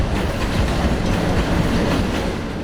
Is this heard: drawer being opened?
no